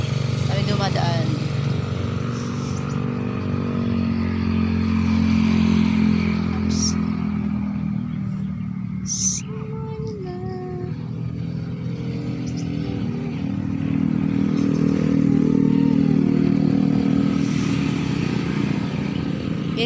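Busy roadside traffic with motorcycles passing, a steady loud engine drone rising and falling as vehicles go by, with a voice talking over it.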